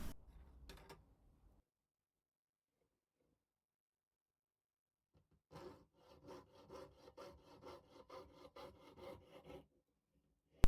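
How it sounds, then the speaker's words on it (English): A jeweller's saw with a beeswax-lubricated blade cuts silver on a bench peg: after a short clatter and a long near-silence, a quick run of rhythmic back-and-forth rasping strokes, close and fairly quiet. "I'm using a jeweller's saw and a bench peg to cut the silver."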